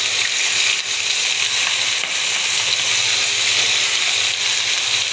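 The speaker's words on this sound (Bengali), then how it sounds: "মাছের মাথাটা লবণ হলুদ দিয়ে মেখে রাখছিলাম, এবার তেলে দিয়ে ভেজে নেব" A fish head rubbed with salt and turmeric fries in hot oil for muri ghonto, giving a steady, dense sizzle and crackle that runs evenly throughout at close range with no talking.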